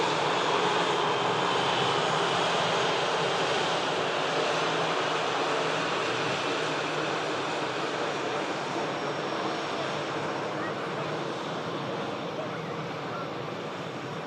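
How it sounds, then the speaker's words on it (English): An EasyJet airliner arrives from Paris Charles de Gaulle, its engines giving a continuous wide roar that slowly fades, with no voices over it. "There's this EasyJet in front of us, just arriving in there from Paris, Charles de Gaulle."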